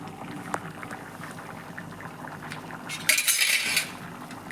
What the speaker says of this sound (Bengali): এটাকে আমি 10 মিনিট গরম করবো, আপনার ঘুগনি রেডি।